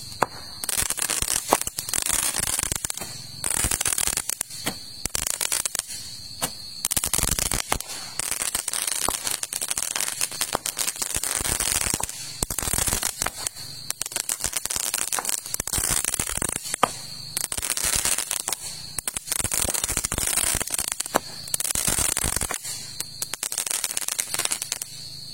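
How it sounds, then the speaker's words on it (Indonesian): Cobra firecrackers go off outdoors at New Year in a long rapid string of sharp crackling pops, dense bursts with brief gaps, continuing loudly and alone for the whole stretch. "Itu dia tadi mercon Cobranya ya."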